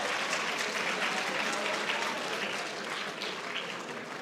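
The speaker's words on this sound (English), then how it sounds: "A big applause for them." Applause from the audience at a dairy farming workshop, dense steady clapping filling the room, moderately loud and fading slightly toward the end.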